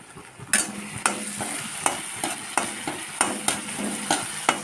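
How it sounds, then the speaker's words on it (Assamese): Tomatoes and green chillies fry in a pan while a utensil stirs them, giving about eight regular scraping strokes over a steady close sizzle. "আৰু অকণমান লৰাই দিছোঁ।"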